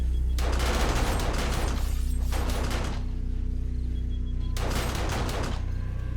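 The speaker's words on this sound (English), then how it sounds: "So the turrets are still firing." Automated turrets fire on a zombie horde during a horde night in the video game 7 Days to Die, Alpha 19: dense bursts of rapid gunfire in two long volleys over a constant low rumble, loud and close, with no talking.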